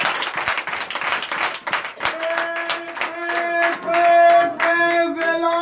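Church congregation applauding in dense, rapid clapping for about two seconds, then thinning as sustained music notes rise and carry on beneath scattered claps.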